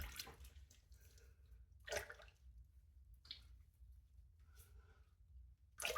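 Water splashes and drips as a face is rinsed during a shave, with irregular bursts of splashing between quieter trickling, close and soft with no talking.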